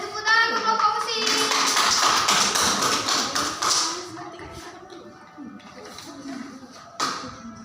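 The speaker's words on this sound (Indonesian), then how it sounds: "Dan tepuk tangan untuk kelompok musik." Applause for a school music group in a primary-school science lesson, a burst of many hands clapping that is loud at first and then fades over several seconds, ending with a few scattered claps.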